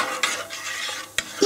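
Mulled beer, Kujawy style with a splash of lemon vodka, heats in a pot on a gas stove while a spoon stirs it, giving close, steady scraping with a few sharper knocks against the metal.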